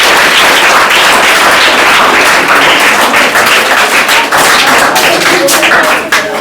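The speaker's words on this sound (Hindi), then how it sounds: "ताली बजाओ।" Children in a classroom clap together, a loud, close, steady burst of applause with scattered sharp individual claps throughout.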